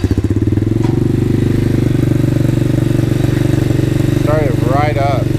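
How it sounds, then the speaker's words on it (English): A Tao Cheetah 125cc kids quad engine idles in neutral with a loud, close, steady throb that continues evenly throughout, while a voice speaks briefly near the end. "So we'll turn the key on. You can see it's in neutral,"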